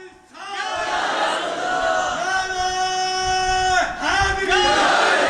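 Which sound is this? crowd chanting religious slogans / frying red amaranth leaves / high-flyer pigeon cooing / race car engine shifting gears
crowd chanting religious slogans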